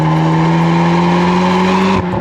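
A Volkswagen Golf 8R, 20th anniversary limited edition, driven hard on a track, its engine roaring loud and steady at high revs for about two seconds before a brief dip as the tone shifts.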